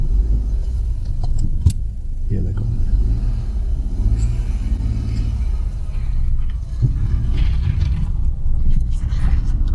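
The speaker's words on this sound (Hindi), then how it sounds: "तो बस अब मैं लगाऊंगा पहला गियर और आगे ले जाऊंगा। अब आप देखना गाड़ी कितनी आसानी से निकल जाएगी।" A stuck car is driven forward in first gear, its engine a steady low rumble throughout, with a few brief knocks and a short spoken remark over it.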